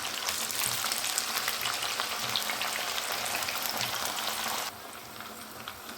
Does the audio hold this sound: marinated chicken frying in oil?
yes